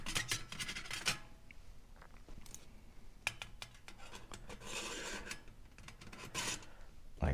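A metal fire grate is handled and set down inside a camping stove, giving scraping, rubbing metal sounds and a few small clinks, close and quiet, in short irregular bursts.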